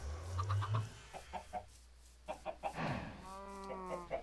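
Chickens in a video game cluck in short bursts, joined by a brief rooster-style call, with low farm ambience underneath.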